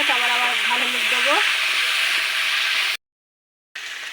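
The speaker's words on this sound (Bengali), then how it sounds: "এখন আদা রসুন দিচ্ছি। আদা রসুন দিয়ে একটু নেড়ে নিয়ে" Vegetables frying in a pan with ginger and garlic, a steady close sizzling hiss with a brief tonal whine early on, cut by a short silent gap before the sizzle resumes.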